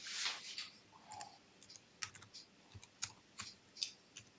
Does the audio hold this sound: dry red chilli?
no